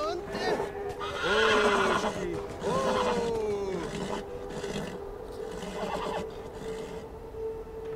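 Horses in the video game Beyond Two Souls neigh loudly, with several rising and falling whinnies close by over faint hoof clatter, while people talk in between.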